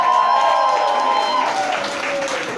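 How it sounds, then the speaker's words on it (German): Concert audience applauding at a Homecoming show, a steady wash of clapping that fades slightly toward the end, with a sustained tone and shouting voices layered over it. "Großen Applaus für Christoph Raftan."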